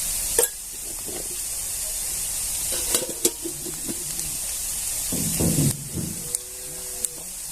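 Cumin, turmeric and red chilli powder hit hot oil with sautéed onion for wheat-bran bhaji, a constant close sizzling hiss with scattered utensil clinks and short scraping stirs.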